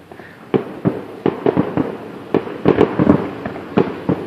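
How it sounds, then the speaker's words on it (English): Fourth of July fireworks burst in a loose series of sharp booms and crackles, some spaced apart and others clustered close together, loud against a quiet night background. "It's the first time I've chased fireworks."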